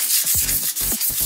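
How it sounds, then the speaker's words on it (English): A small sanding sponge rubs back and forth over a diorama base, making short, close, scratchy strokes in a quick irregular rhythm with no talking. "So I'm just sanding down it a little bit like this."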